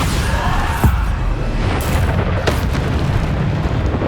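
Bombarda spell explosion in the video game Hogwarts Legacy, a loud continuous booming roar with a couple of sharp bursts over dense rumbling battle noise.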